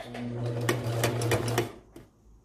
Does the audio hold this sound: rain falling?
no